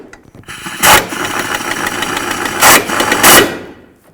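A power tool whirs as it snugs up front lower control arm bolts on a 2009-13 Mazda 3, a loud close buzzing run with three sharp impact hits.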